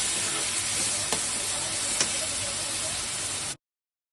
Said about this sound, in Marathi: आपल्याला कांदा गोल्डन होईपर्यंत परतवायचा आहे।